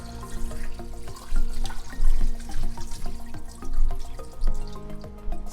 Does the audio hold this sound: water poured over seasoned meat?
yes